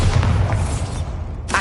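Bombarda explosion spell from Hogwarts Legacy on PS5, a short heavy boom with a deep thudding rumble amid busy game noise, ending in a sharp crack.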